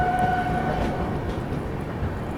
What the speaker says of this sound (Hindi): यहाँ पर अपनी ट्रेन जो है फ़िलहाल ओवरटेक कर रही है बठिंडा बालूरघाट फरक्का एक्सप्रेस को दोस्तों।